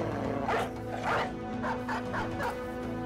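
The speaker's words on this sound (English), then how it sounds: "And here come the dogs." War dogs barking during a battle against raiders in the Battle Brothers video game, a series of about five sharp, close barks at an uneven pace over a steady low ambient drone.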